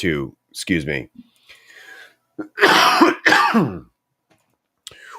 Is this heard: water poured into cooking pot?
no